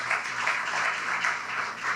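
An audience applauds at a Caribbean Heritage Month celebration event, a soft, steady wash of many hands clapping heard from a distance throughout.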